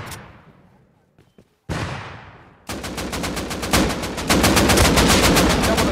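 Bursts of AK rifle fire in the game Rust: one sharp shot decays away, a second single crack follows, then rapid sustained automatic fire rattles loudly for several seconds without pause.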